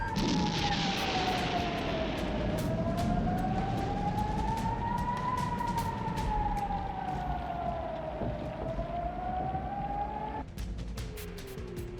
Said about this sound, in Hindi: हर तरफ एयर रेड सायरन की आवाज।